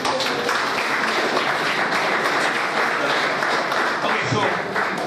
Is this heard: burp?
no